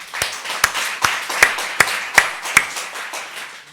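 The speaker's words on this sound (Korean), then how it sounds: "이게 은혜로 와닿으면 박수 한번 쳐보세요" Rhythmic clapping in a church congregation during a sermon, about nine evenly spaced claps ringing out fairly loud and clear with no talk over them.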